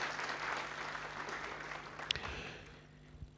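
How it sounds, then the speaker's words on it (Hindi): An audience applauds to welcome guest BV Chauhan at a Shiv Mandir gathering, with a moderate wash of clapping that thins and softens after the midpoint, and a few sharper claps near the end. "तो जोरदार तालियों के साथ हम बीवी चौहान जी का वेलकम"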